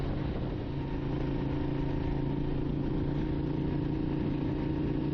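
An old motorcycle cruises steadily along a westbound highway, its engine holding a continuous, even mid-low drone at constant loudness throughout, with no talking.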